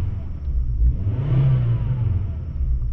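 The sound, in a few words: Volvo 850R five-cylinder engine revving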